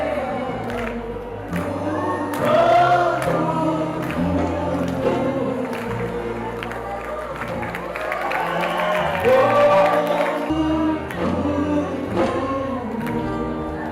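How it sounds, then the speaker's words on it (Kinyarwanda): A crowd claps and cheers at a ceremony, a sustained wash of applause with whoops rising and falling, while music plays loudly over it. "Amashyi menshi cyane"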